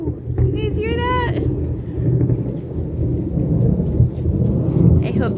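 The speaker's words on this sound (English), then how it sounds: "it's raining, guys, so I'm gonna go inside" Heavy rain pours steadily through a thunderstorm, a broad loud wash with a low rumble underneath, while a brief high, wavering tone sounds near the start and a voice talks over it.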